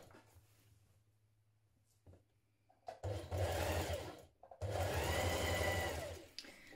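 Sewing machine stitching a dress seam in two quick, loud whirring bursts of rapid needle strokes, close by after a quiet motor hum and small handling clicks.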